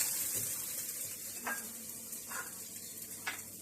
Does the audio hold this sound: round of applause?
no